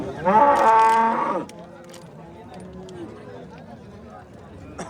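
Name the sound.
cows at cattle market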